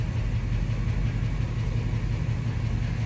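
A 1965 Ford Thunderbird engine idles on a stand with no wheels, giving a steady, low, even rumble close by with no talk.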